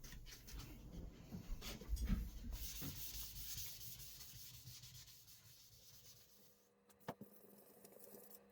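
Steady scratchy rubbing of sandpaper across a wooden 7-string guitar body coated with shellac sanding sealer, close and continuous, tapering off near the end with a brief knock.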